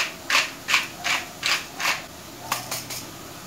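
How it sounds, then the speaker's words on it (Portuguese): A salt grinder crunches over sautéed broccoli in a pan, giving about eight quick, close ratcheting grinds, five in a steady rhythm, then a short pause and a few more. "Vou moer aqui um pouquinho de sal"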